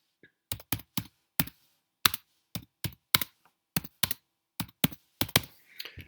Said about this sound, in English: I'm just going to take that tool and just click and start to type.